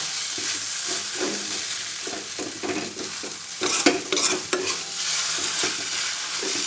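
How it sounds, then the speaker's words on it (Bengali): Vermicelli for semai being stirred in a pan while it loosens from a clumped state, with steady frying sizzle and repeated scraping strokes of a spoon at close range, no talking. "একটু নাড়বো ভালো করে, যেহেতু জমাট বেঁধে গেছে একটু নেড়ে নিতে হবে ভালো করে"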